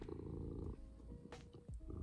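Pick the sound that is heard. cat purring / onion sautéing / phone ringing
cat purring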